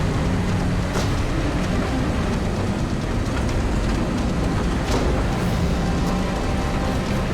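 A 50-ton heavy wrecker strains to pull a semi truck up a roadside bank, a steady loud diesel roar and mechanical rumble running without letup throughout, no voices over it.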